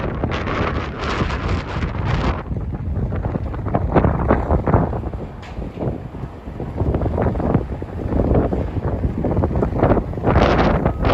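Strong wind buffets the microphone on a New York City street, roaring in uneven, gusty bursts close and loud throughout, with no one speaking.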